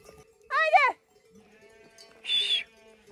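A flock of sheep and lambs, including newly bought purebred small-eared lambs, bleats twice: one wavering, drawn-out call up close, then a brief pause before a second, higher, shorter bleat.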